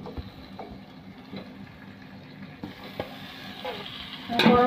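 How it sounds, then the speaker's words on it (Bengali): Chicken pieces go into spiced oil in a hot wok for a Bengali chicken kosha, giving a steady close sizzle with scraping stir strokes and utensil clatter that grows louder near the end. "এবার মাংসগুলো আমি দিয়ে দেবো কড়ার মধ্যে।"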